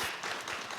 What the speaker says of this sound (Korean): 다시 한번 박수 주세요, 여러분.